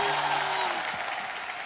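Applause from a television comedy show studio audience, a dense, steady wash of clapping that holds at an even level for under two seconds with no talk over it.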